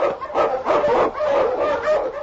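A husky sled dog, an Eskimo lead dog in an old-time radio drama, gives a quick run of about four close, full-throated barks in steady rhythm.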